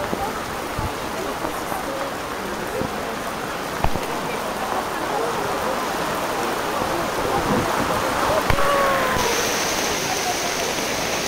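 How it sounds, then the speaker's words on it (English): Heavy rain pours down steadily in a dense, hissing wash with occasional louder splashes over an outdoor evening crowd in Medjugorje, faint voices murmuring underneath. "It's raining like, I don't know, it's coming pouring down like crazy."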